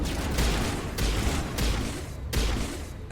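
Gunfire in the video game Mass Effect, with a series of sharp, loud shots fired in quick succession over a constant rumble of battle. Several distinct blasts stand out, and no one speaks.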